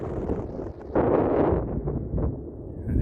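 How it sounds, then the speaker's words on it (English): Gusty wind on Little Bald, a mountain summit on the Appalachian Trail, buffets the microphone in loud, rumbling bursts, rising sharply partway through and then easing, with no other clear sounds. "It's windy up here."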